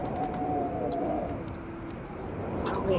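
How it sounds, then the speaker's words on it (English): Pigeons coo in the survival video game The Long Dark, a soft repeated cooing heard at moderate distance over a steady ambient background throughout. "I did see some birds nearby."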